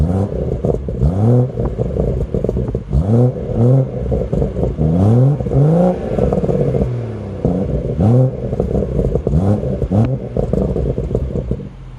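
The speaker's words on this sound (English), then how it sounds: "put the camera at the rear of the car and give the car some revs" A BMW M140i, recorded from the rear at its exhaust, is revved repeatedly while stationary, loud rising and falling engine sweeps in a steady rhythm of bursts with brief pauses between.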